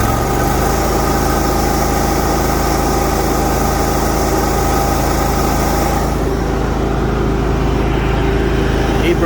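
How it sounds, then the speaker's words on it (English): A 2014 Toro Z Master 6000 commercial zero-turn riding mower with a 60-inch deck runs loud and close, its engine holding a steady, high, vibrating drone that changes tone partway through, as if speed shifts. "Idle's really smooth, no smoke at all. I'll rev it up for you."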